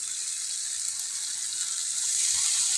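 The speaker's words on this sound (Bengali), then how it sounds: "আমি হালকা একটু কষানো পানি দিব," Water poured into a pot of browning meat curry with potatoes gives a steady bright hiss and sizzle for about three seconds, swelling slightly at the end.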